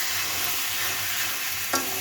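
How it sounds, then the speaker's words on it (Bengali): Grated ash gourd and sugar fry for halwa in a pan, giving a steady, close hiss of sizzling with a faint low hum beneath and one brief scrape of stirring near the end. "এখন নাড়াচাড়া করে ভেজে ভেজে নামাবো।"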